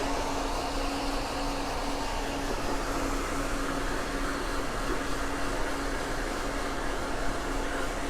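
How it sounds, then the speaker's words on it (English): A hair dryer blows steadily at close range in a salon during a curly short layered haircut, a constant broadband whoosh with a faint hum running throughout. "Can you just hold the dryer for me? Keep drying."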